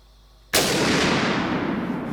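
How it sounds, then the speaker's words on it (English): A single .50 BMG round from a Serbu RN50 rifle strikes a 380-pound Atlas stone in one huge, sudden blast, close and very loud, that rolls off into a long, slowly fading rumble. "Let's hit this 380-pound Atlas stone with a 50 BMG. We have a Serbu RN50"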